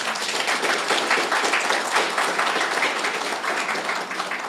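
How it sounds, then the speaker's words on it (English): Applause from a seated audience at a swearing-in ceremony, a dense steady wash of many hands clapping at even loudness throughout, with no talk over it. "I will ask you to give yourselves a round of applause"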